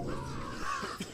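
Crows caw around a looming stone monument in the video game Beautiful Desolation, a couple of hoarse calls close by over a steady ambient background, with no talking.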